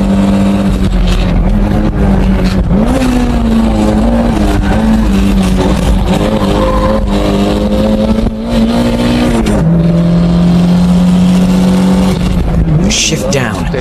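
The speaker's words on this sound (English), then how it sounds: "Shift down and put the pedal to the metal." Toyota car engine at full throttle, heard as a loud, sustained droning roar close up with pitch shifts as it pulls and shifts gears, continuing at high volume throughout.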